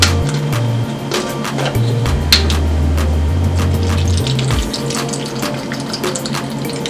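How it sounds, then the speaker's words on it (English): Steady running coconut water pours continuously into a bowl with ice and fruit for several seconds, a close, bright splashing stream with no voices. "Now I'm going to add in the coconut water."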